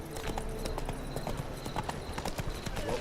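Roach the horse running in The Witcher 3, hooves clip-clopping in a steady, brisk galloping rhythm, close and clear over faint background ambience.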